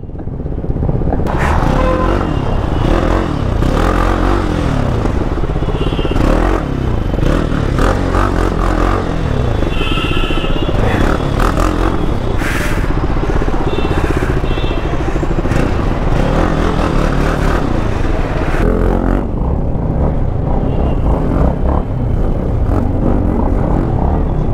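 A motorcycle rides along a road, its engine rumbling loud and close throughout, with wind buffeting, rattles and scrapes layered over the steady drive.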